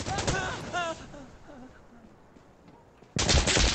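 Rapid machine gun bursts crackle in the Insurgency Sandstorm shooter game, with a loud rattle at the start, a quieter stretch, then another dense, close burst at the end. A voice is faintly present.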